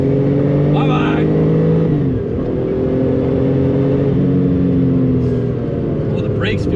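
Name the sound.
turbo sports car accelerating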